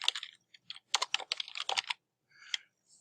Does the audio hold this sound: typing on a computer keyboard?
yes